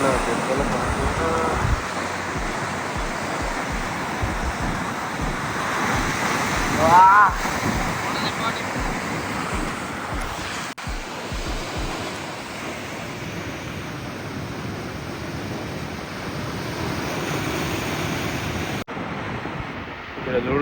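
Sea waves surge and crash beside a damaged coast road at night near Kakinada, a continuous loud roar mixed with wind buffeting the microphone, swelling around the middle and staying steady throughout.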